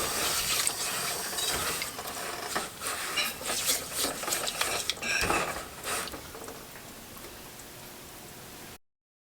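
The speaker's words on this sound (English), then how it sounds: "it's been boiling for 2 minutes" Evaporated milk, sugar and butter cake topping boiling in a pot, a dense hissing bubbling patter that swells and settles before cutting off abruptly.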